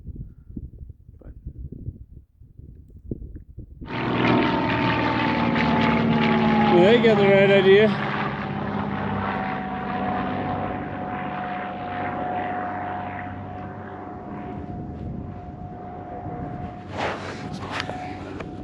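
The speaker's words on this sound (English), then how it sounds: "That plane came right by us." A small propeller plane drones past low overhead at a mountain goat hunt in the Colorado backcountry, its engine swelling loud, holding a steady shifting hum, then easing away while someone speaks briefly underneath.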